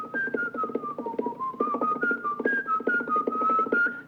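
A hobgoblin sits at a spinning wheel whistling a wavering, continuous melody, the notes sliding up and down over a busy rhythmic accompaniment beneath, steady and fairly loud for the whole stretch.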